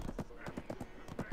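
Horse hooves clip-clop in a quick, regular rhythm in the video game Black Desert, close and distinct, several beats in just over a second.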